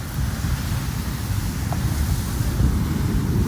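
Continuous low roar of sea surf at Poovar Island, Kerala, mixed with heavy wind buffeting the microphone, loud and steady throughout.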